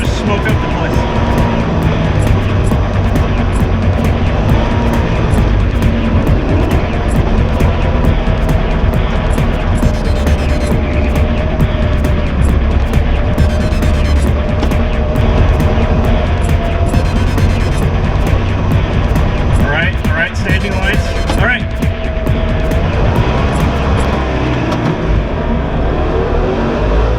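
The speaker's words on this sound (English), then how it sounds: "Contemplate my existence while driving down a drag strip in a Trabant." Loud, droning engine of a Trabant car accelerating down a drag strip, a steady buzzing roar heard from inside the car, with a gear change partway through and a voice talking over it.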